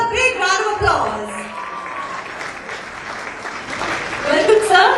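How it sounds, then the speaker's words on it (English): An audience at an awards ceremony claps and cheers continuously, a steady wash of applause with a voice briefly heard at the start. "with a big round of applause"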